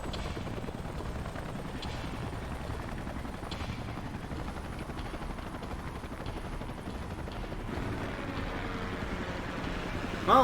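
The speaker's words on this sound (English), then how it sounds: "Let's call in the salvage choppers and get it out of here." Salvage helicopters in the video game Xenoblade Chronicles X give off a steady, continuous rotor drone with a faint, even hum throughout and no voices heard.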